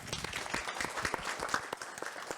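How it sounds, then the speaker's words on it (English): Audience applause at a startup IoT side event, a dense steady patter of clapping from a room of listeners lasting throughout, with faint talk mixed in. "Give And Henry an applaud"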